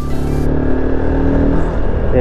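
A repaired RT250 motorcycle engine, fitted with a replacement diaphragm from a DS 150 scooter, runs at a steady idle with a low droning hum, loud and close and continuous throughout.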